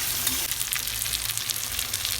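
Meat with round local red potatoes sizzles steadily in a pan, a dense, even hiss of frying that runs close and loud throughout without pause.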